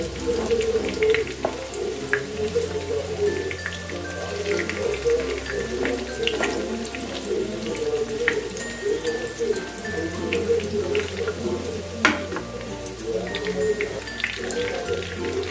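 Steady crackling sizzle of chicken pakoras deep frying in hot oil, dense and continuous with scattered pops, close by and without talk.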